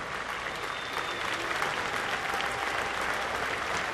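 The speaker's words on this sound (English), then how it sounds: "Let's have a warm round of applause for Major Kelly and all of our brave men and women" A stadium crowd at a New York Yankees baseball game claps steadily in a dense, sustained wash of applause that fills the whole moment without letup.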